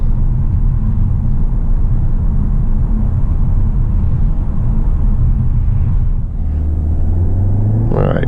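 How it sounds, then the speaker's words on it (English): A 2019 VW Arteon R-Line pulls away from a traffic light, its engine and road rumble steady and loud from inside the cabin, with the engine note rising near the end as it accelerates. "accelerating away from a light here"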